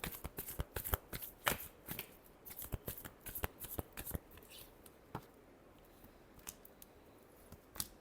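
Tarot cards shuffled by hand: a steady run of crisp, close riffling snaps and soft slaps in quick irregular bursts, thinning out toward the end, with no voices.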